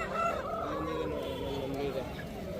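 Aseel roosters at a busy poultry market in Kundarapalli, with fowl calls mixed into steady crowd noise and nearby voices talking throughout.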